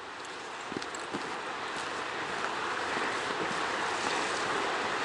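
Fast-flowing, icy mountain stream in the Pecos Wilderness near Cowles, New Mexico, heard from a trail above; a continuous broad rushing roar with no talk.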